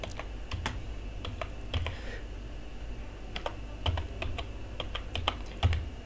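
Fingers type a name on a computer keyboard in quick, uneven bursts of close key clicks, with short pauses between runs and a faint steady hum underneath.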